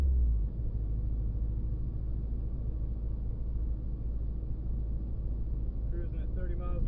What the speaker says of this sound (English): Cruising at 30 miles an hour in fourth gear at 1800 RPM.